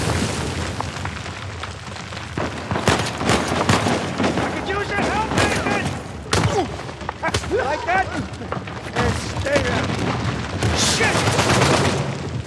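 Gunfire from the Uncharted 4 video game crackles in repeated loud bursts and booms throughout, with brief voices in between.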